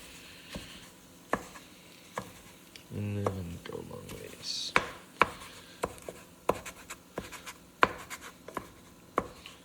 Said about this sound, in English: So just keep chopping it up until it is all bite-size ish.